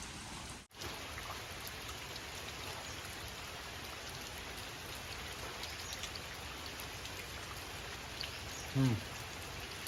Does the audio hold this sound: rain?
yes